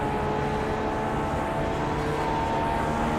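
A Dallara IR-18 race car at Pocono in the iRacing video game gives a steady, unbroken broadband engine drone at moderate, turned-down volume.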